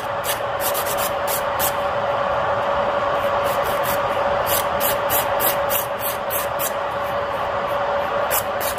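Fingernail being filed with a nail file, a steady close scratchy rasping of short repeated strokes over a constant background hum.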